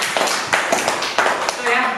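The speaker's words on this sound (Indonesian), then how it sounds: "tepuk tangan untuk Dira" Students in a classroom give a short round of applause for a classmate, a few scattered claps and taps close by, mixed with voices talking over them.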